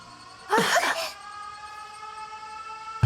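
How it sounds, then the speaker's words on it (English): Alarm sirens in the video game 13 Sentinels: Aegis Rim form a sustained, steady tonal wail that runs throughout, broken early by a brief loud burst, with no one speaking. "The sirens."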